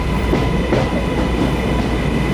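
A steam train rumbles past nearby, a loud steady roar of rolling wheels with rhythmic clattering over the rails.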